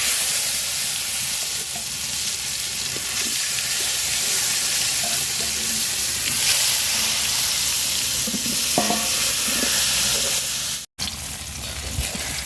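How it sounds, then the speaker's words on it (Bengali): Eggplant coated in turmeric and salt frying in oil, a close, steady sizzle with stirring scrapes and small clatters, cut by a brief dropout near the end. "তো বেগুন ভাজা নিছি তুলে নিব"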